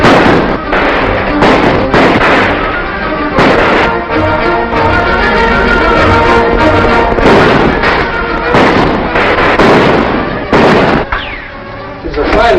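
Repeated sharp gunshots crack out in irregular bursts throughout an old western film serial, loud and close, layered with shouting voices and scuffling action.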